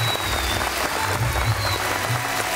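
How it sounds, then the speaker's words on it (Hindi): An audience at a Bhojpuri television show applauds, steady thick clapping with a low hum beneath it. "जोरदार तालियां।"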